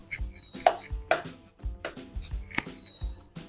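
Canned salmon is broken up in a bowl, giving a series of close, quiet taps and scrapes of a utensil against the dish in an irregular rhythm.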